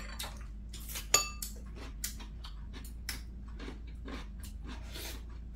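Quiet, crisp crunching from close-up chewing of pickled radish comes in irregular bursts, with a faint clink of a dish or utensil.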